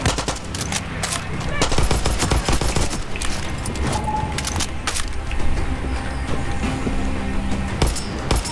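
Rapid bursts of rifle fire crack repeatedly in quick succession in the video game Far Cry 6, some shots sharper and closer, over a busy background of game sounds.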